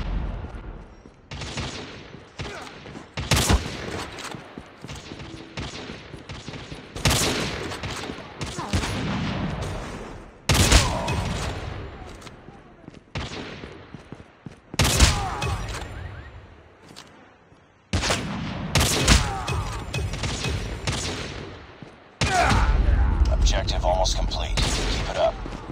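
Gunfire in a Call of Duty Mobile match: repeated bursts of automatic fire and sharp single shots in bunches, loud and close, with a player's voice calling out between and over the shots.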